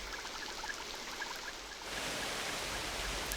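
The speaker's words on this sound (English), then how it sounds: "nowhere else in the world does it rain with such fury as in the Amazon" Heavy rain in the Amazon rainforest during the rainy season, a dense steady hiss of downpour that thickens and grows slightly louder partway through.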